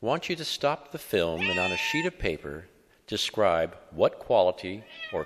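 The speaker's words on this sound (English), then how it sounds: "This is the sound of a cat" A cat meows in a few drawn-out, wavering cries, heard clearly and up close while a narrator speaks over and between the calls.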